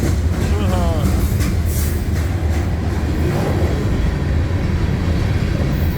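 Loud CN freight train rolling past at close range with flatcars loaded with I-beams, a steady broadband rumble and rattle filling the whole span, with a voice talking briefly over it.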